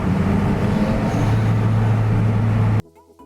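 A turbocharged Lotus Elise engine roars loudly and steadily with a strong low drone for nearly three seconds, then cuts off abruptly, leaving near silence.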